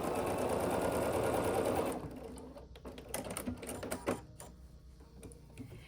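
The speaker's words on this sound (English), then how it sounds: "So I'm just going to put a blue on one of my remaining corners and then sew across that diagonal." A sewing machine stitches across the diagonal of a scrappy sampler quilt block, a loud steady whir for about two seconds, then stopping into quieter clicks and fabric handling.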